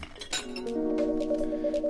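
A glass of water set down with a bright clink in the Coffee Talk game, a short sharp strike followed by a sustained ringing tone that lingers, close and clear.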